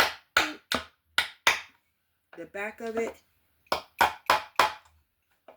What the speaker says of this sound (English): And I got my little ping hammer,